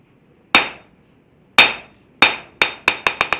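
Forging hammer striking a steel anvil in a knife-making setting: sharp ringing metallic clangs, two widely spaced blows and then a quickening run of six hits, each decaying quickly, loud and close with no talk.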